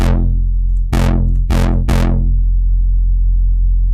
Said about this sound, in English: it's got a nice attack and then it's got a little bit of a wobble going on at the end